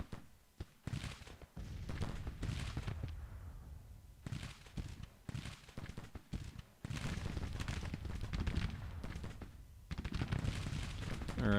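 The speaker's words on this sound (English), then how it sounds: "I think he's engaging Wise's artillery" Gunfire and artillery in the Grand Tactician Civil War strategy game, with repeated bursts of battle noise, crackling volleys and booming thuds coming in clustered waves at moderate loudness.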